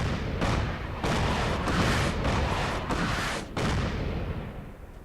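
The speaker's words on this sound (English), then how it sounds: "that's a bad place to put artillery" Artillery fire in the Fallout 4 video game: a dense run of heavy booming blasts, one rolling into the next with short gaps, loud and close for several seconds.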